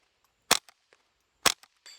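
A Ruger 10/22 rifle in a bullpup chassis fires tracer rounds at a steel plate: two sharp, short reports about a second apart, each followed by faint echoes.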